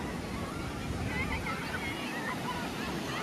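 Ocean waves roll onto Golden Beach at Puri on the Bay of Bengal, a steady broad surf roar mixed with wind buffeting the microphone, with no distinct individual breakers.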